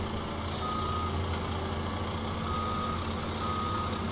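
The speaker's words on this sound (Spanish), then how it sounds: "Voy a sacar este camión de acá." Truck reversing beeps from a farm truck in the Farming Simulator 19 video game, a steady repeating beep over continuous loud engine rumble, no talk.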